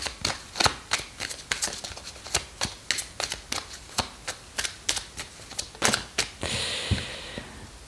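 Tarot cards are shuffled and drawn in a steady series of crisp flicking snaps, close and fairly quiet, ending in a soft sliding rustle as the cards are laid out. No voices are heard.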